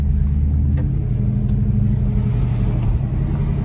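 A car drives steadily with a low, continuous engine rumble and road noise close by, its tone unchanged throughout.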